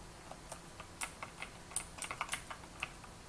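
Fingers tap on a computer keyboard in an irregular string of quiet, close clicks, faint and alone in a still room.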